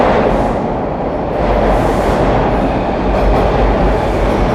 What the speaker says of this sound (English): I think that's the train coming in on the other side.